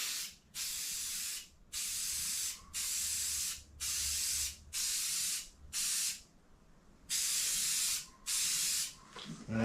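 A spray gun lays a second coat of paint over rust repair on a 2002 Ford F350 truck, firing nine or so evenly spaced hissing bursts of about a second each, close and loud, with short pauses between.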